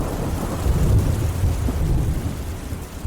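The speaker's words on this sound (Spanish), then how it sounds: "así que el trueno o thunder" Deep thunder rumbles steadily through a storm, low and loud with a swelling roll, alongside the hiss of rain falling on surfaces.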